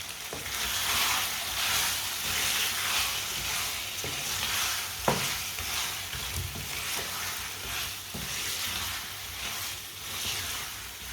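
Garam masala is stirred into a potato sabzi in a hot pan: a continuous close frying sizzle with rhythmic swishing stirs and a few sharp clacks of a spoon on the pan.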